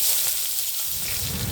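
Onions sizzle in hot oil in a pan, a steady close hiss and crackle without a break, with no talking.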